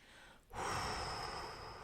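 A single long exhalation through the mouth during a guided relaxation exercise, close and soft, starting after a brief pause and trailing off slowly.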